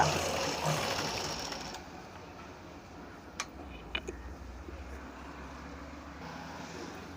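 A sewing machine runs steadily while stitching a boat neck blouse, a faint continuous whir at first that quiets, with a few small clicks near the middle.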